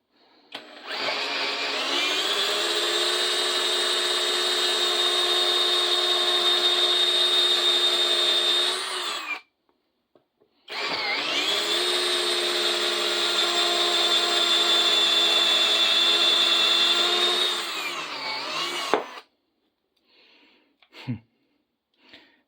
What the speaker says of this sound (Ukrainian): На першій швидкості пробуємо на цьому даному коліні.